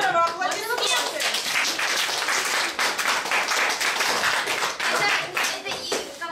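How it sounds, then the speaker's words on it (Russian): Lively applause and clapping from a group at a ski race team presentation, dense and continuous, with voices, including children's, talking underneath. "Здорово, аплодисменты!"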